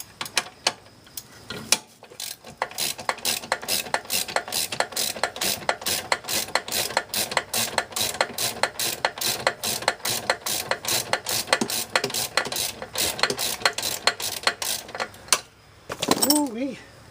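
Close, repeated clicking of a hand ratchet loosening a bolt on the rear differential of a Can-Am Outlander ATV, a steady rapid run of sharp pawl ticks lasting over ten seconds, broken by a brief pause and ending with a short squeak.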